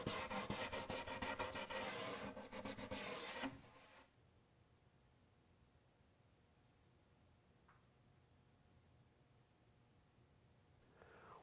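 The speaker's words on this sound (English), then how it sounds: "I use some 150 grit sandpaper to ease the edges" Cabinet part edges being hand sanded with 150 grit sandpaper after edge banding and trimming, a loud steady rubbing rasp for about four seconds, then near silence with faint ticks.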